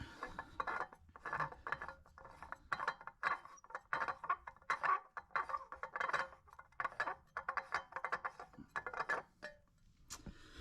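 Center caps come out of BBS RM wheels on a MK2 Jetta, giving close, faint metallic clinks, ratcheting scrapes and small rattles in an uneven series, with no talking.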